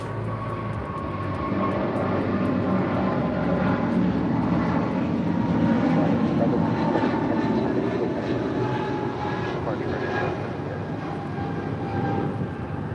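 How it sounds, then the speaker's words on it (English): United Airlines Boeing 777-200 jet engines roar steadily at LAX as the airliner departs for Honolulu, a loud, sustained broadband rumble with no talk. "This is United Airlines 1170 departing to Honolulu on a 777-200."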